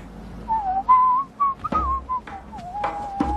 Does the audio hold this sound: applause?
no